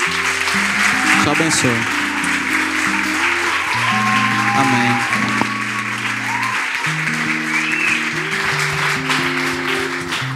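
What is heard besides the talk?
church congregation applauding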